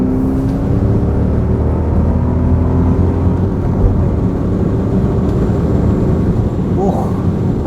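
A BMW M5 E39 V8 pulls hard after a gear change, a steady loud engine drone with rising harmonics filling the cabin throughout, while a voice talks over it.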